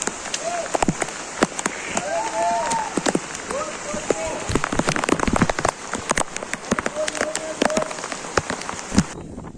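Heavy rain pours steadily at Kankeshwar temple, Alibaug, with dense crackling drops on a surface and occasional voices faintly audible beneath the downpour.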